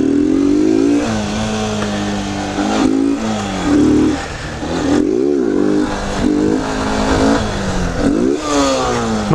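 A motorcycle engine revs hard and continuously up close, its pitch climbing and dropping through repeated throttle blips and gear changes, loud and steady throughout with no talking.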